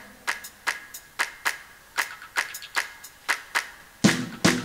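Hand clapping from a cover performance of a song, about ten sharp, evenly spaced claps in a steady beat, ending in a couple of louder, fuller claps, with no talk.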